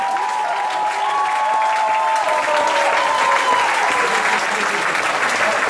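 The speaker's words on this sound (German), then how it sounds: "Begrüßen Sie nun mit einem herzlichen Applaus den Lokalmatador aus Heiligenkreuz, Rudi Mauer!" A ballroom audience at the Heiligenkreuz youth ball applauds local hero Rudi Mauer at a midnight show, a dense, even roar of clapping that stays loud and unbroken for several seconds.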